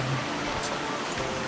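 A river flows beside a forest path leading to a waterfall in Bulgaria, giving a steady, even wash of broadband water noise that holds constant and close throughout, with no voices.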